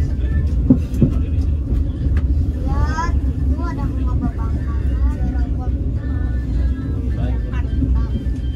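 Riding inside an economy class passenger train in Indonesia, a constant loud rumble of wheels and carriage fills the cabin, while cabin chatter and a few clanks come through over the din.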